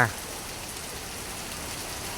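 Steady rain pours down on Soi Khao Talo in Pattaya during the rainy season, a dense even hiss of drops on surfaces close by, with a brief bump at the very start.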